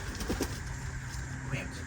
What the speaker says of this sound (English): 18 pigeons in here now.